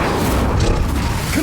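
Hogwarts Legacy's Incendio fire spell going off in combat: a brief, dense, roaring burst of flame and impact noise, loud and close, with muffled battle sounds mixed in.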